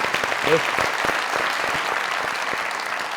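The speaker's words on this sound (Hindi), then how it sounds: "एक तालियां हमारी तरफ से हमारे डायरेक्टर साहब के लिए" Studio audience clapping on the Pakistani comedy show Mazaq Raat, with brisk, distinct claps over a steady bed of applause and a short vocal sound early on.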